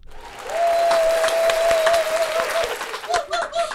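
Applause from a large crowd of about two thousand people at a podcast, a loud dense roar of clapping that swells and holds, with a whistle-like tone and scattered voices in the mix.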